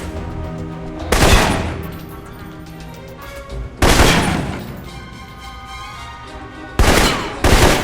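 Assault rifle fire in the video game Alpha Protocol: three loud, sharp bursts of gunfire separated by quieter stretches, with a final short burst at the end.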